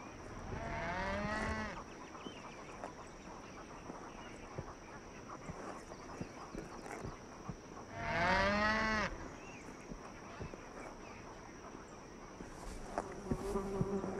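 Two long, low cattle moos a few seconds apart, with flies or bees buzzing steadily throughout and faint insect chirps in the background.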